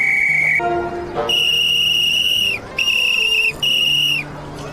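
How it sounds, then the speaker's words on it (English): A whistle blown in a movie scene, loud and close, sounding in three sustained shrill blasts with short breaks between them after a brief opening tone. "someone's using a whistle, and that makes it awkward"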